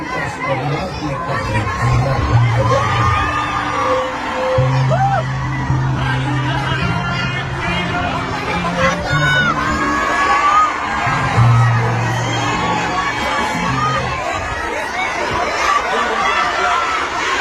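Political rally crowd in the Philippines chanting and cheering for Duterte, a loud dense mass of shouting voices with whoops and rhythmic chant bursts, close and sustained throughout.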